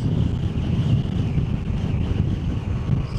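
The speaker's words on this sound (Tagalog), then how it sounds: "Sarap. Lakas ng hangin" Strong wind buffets the microphone in a constant low roar, loud and close, with no voices.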